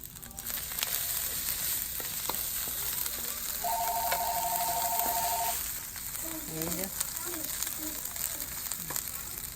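Rice and onions with aromatic leaves fry in a pan, a steady moderate sizzle running throughout with a brief tone and faint voice sounds partway through.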